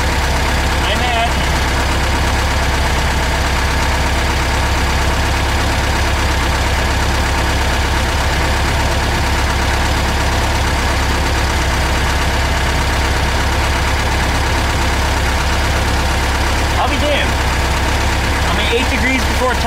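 Volkswagen Type 3 engine idling after installation, during ignition timing, a steady low rumble throughout with people talking over it.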